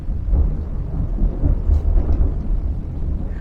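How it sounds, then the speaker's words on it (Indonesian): Thunder rolls through outdoors at a rural family guesthouse, a loud, sustained low rumble that swells and ebbs for several seconds, with a faint patter of rain beneath and no talking. "tadi nanti ada petir, kita break dulu"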